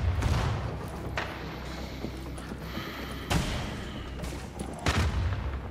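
Gunfire and missile explosions in The Division, bursts of shots and heavy booming impacts recurring over a dense, loud battle din.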